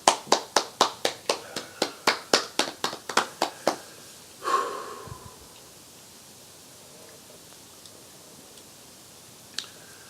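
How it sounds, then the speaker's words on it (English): Scattered audience applause for a guest at a Bill Cosby appearance: a short run of distinct, evenly spaced claps fading out after about four seconds, followed by a brief murmur and then near silence. "please give a great big applause for my guest"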